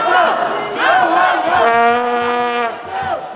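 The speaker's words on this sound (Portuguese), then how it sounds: "A torcida da comunicação era das mais animadas." A crowd of university student supporters at an intercourse sports match chants and cheers loudly in unison, sustained voices close by with a rising, horn-like group shout.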